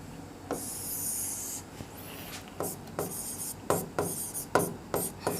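A pen scratching across paper while working a maths problem, with long continuous strokes at first and then shorter, sharper strokes and taps, close and alone with no talk.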